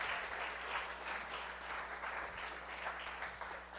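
Audience applause from a gathered congregation, steady dense clapping throughout with no voices over it.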